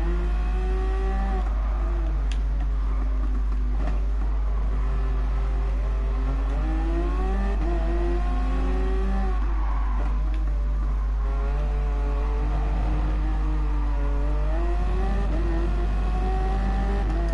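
Race car engines in GT Sport on track while passing a McLaren, a sustained loud engine drone with rising and falling pitch as the car revs up and shifts gears, running continuously throughout.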